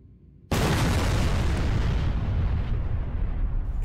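Bombing in a Garry's Mod Star Wars roleplay game: a sudden massive blast after silence, then a loud sustained rumbling roar that slowly fades, heard alone without talking.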